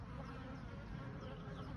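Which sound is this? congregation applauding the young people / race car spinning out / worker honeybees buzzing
worker honeybees buzzing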